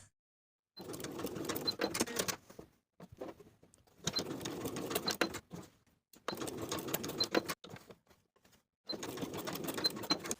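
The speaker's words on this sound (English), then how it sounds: "Baste each of your tie pieces in place with your longest stitch setting and a 1/4 inch seam allowance." A sewing machine runs in four steady whirring bursts with short pauses between them, basting tie pieces for a pintuck blouse on its longest stitch setting.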